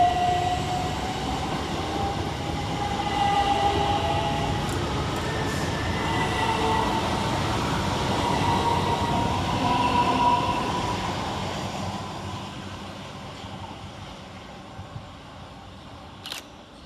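Southern Railway Class 377 electric multiple units pull out of Burgess Hill station, a steady rumbling rise of motors and wheels with faint whining tones, easing away as the train recedes and a brief click sounds near the end.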